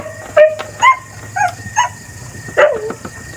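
A dog gives five short, sharp barks at uneven intervals, close by, with a faint low hum in the background.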